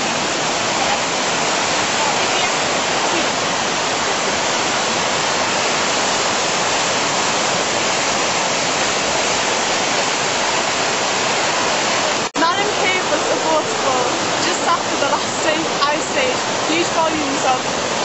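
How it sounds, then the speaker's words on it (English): Water gushing out of limestone at the resurgence spring at the foot of Malham Cove, a loud, steady, broadband rush that fills the whole stretch, with a brief break partway through. "This is the resurgence at the bottom of Malham Cove. Here water comes out of the limestone,"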